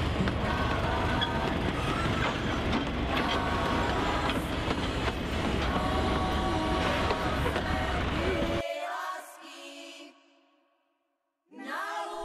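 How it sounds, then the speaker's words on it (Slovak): Forest railway locomotive pulling tourist cars along a preserved switchback narrow-gauge line at Vychylovke, rumbling loud and steady with wheel clatter for about nine seconds, then cutting away to a quieter passage with a brief tonal hum before the noise resumes. "Tento rušeň vozí turistov po trati lesnej železnice počas pracovného týždňa."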